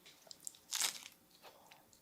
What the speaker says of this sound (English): I liked the crunch of that. That sounded nice.